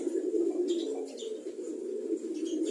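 Pet pigeons coo softly in a low, rolling murmur that runs continuously through the moment, fairly faint and close, with a few light higher chirps layered on top and no talk.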